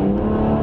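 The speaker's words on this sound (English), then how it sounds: "Never gets old accelerating in this car" A BMW 1M car's engine accelerating, a brief loud steady drone with a strong low hum, heard close and alone.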